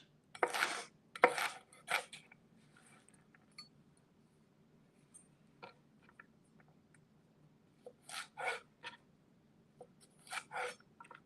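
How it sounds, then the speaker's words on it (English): Knife chopping carrots and onion for a sausage, tomato and spinach soup, heard as bursts of quick, crisp board taps near the start and again toward the end, with quiet pauses between. "So right now I'm just cutting up some carrots and some onion."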